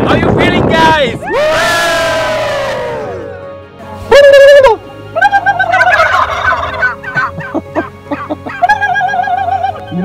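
Several turkeys gobble loudly in repeated rattling bursts, one call after another, close by, with a crowd-like murmur of other fowl between the calls and no talk.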